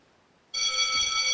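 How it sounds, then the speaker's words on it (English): A livestream raid notification alert plays suddenly after near silence, a loud, sustained electronic chime of stacked bright tones ringing close and steady. "My raid notification is too loud."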